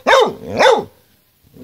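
Two loud, close dog barks in quick succession, followed by a short quiet stretch and a faint low sound at the end.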